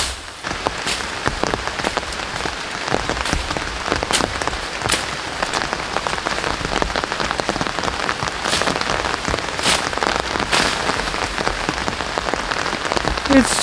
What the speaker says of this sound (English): It's still raining over here